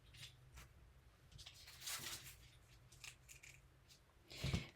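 Scissors cutting paper for an art prompt deck: quiet, close snips and rustles at an irregular pace, faint throughout with a slightly louder crunch near the end.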